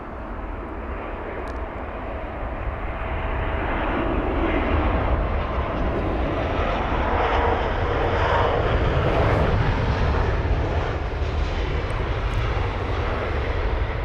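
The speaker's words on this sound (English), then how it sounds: "British Airways A320-200 with the retrofitted sharklets, registered as Golf Echo Uniform Yankee Victor from Dublin" A British Airways Airbus A320-200 with sharklets landing after a flight from Dublin, its engine roar building gradually and growing louder and nearer as it passes, then easing slightly toward the end.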